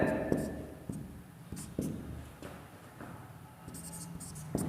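Chalk or marker taps and scratches across a board in a Hindi-language class as a multiple-choice answer option is noted, with short repeated strokes heard under a teacher's speech.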